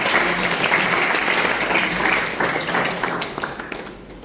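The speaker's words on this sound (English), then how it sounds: "Let us give thanks with a round of applause" Students at a school motivational session give a steady round of applause, dense clapping from a room full of people that holds for a few seconds and then thins out and fades.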